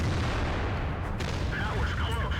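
An artillery tank firing in the video game World of Tanks, a loud deep boom with a rumbling tail and a sharper crack midway, set against continuous battle noise.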